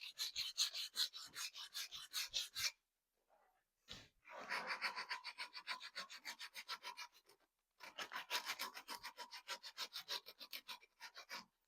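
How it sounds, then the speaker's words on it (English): Sandpaper rubbing by hand along a wooden saber in quick, rhythmic strokes, three close bursts of scraping separated by short pauses, with no voices. "the most frustrating part about this kind of sandpaper is all the holes because it gets caught on the corners."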